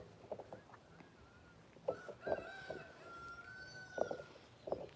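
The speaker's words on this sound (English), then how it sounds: "the roosters" A rooster crows in the distance, a long drawn-out call among scattered clucks and short bird noises, faint outdoors.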